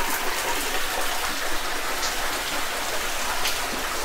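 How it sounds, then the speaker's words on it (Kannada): Very cold water drips and trickles onto a Shiva linga in a hidden water spot at Jogimatti hill station, Chitradurga, making a steady, dense patter like light rain that stays even throughout, with no voices. "ಶಿವನ ಲಿಂಗದ ಮೇಲೆ ನೀರು ತೊಟ್ಟಿಗ್ತಾ ಇದೆ, ಅಭಿಷೇಕ ಥರ ತೊಟ್ಟಿಗ್ತಾ ಇದೆ"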